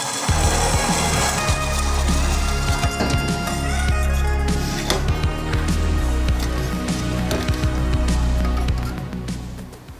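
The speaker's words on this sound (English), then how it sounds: "Now I'm gonna cut this so that I stay away from the line" A Toyota Supra exhaust downpipe is cut up close, making a steady, continuous rasping and grinding that runs almost unbroken through the whole stretch, with a low droning hum beneath it.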